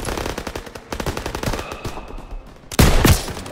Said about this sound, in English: OGs, open fire!